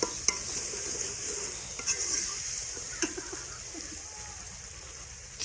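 Masala for a shorba-style aloo chicken korma sizzles in a pan while a spoon scrapes and stirs it, with soft clinks and a steady frying hiss close by.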